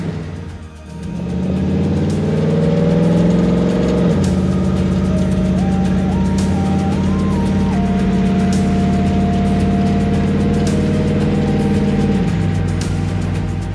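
A Roadster car driving with a steady, loud engine drone heard from inside, the pitch rising slightly and then easing as the throttle is lifted, continuous for the whole stretch with no talk.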